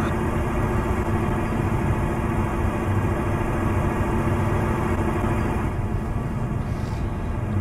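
A tractor engine idling outdoors in snowy weather, a loud, steady low drone with an even mechanical hum that carries on unchanged.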